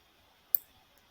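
A single computer mouse click, sharp and quiet, stands alone against a faint, steady background hum.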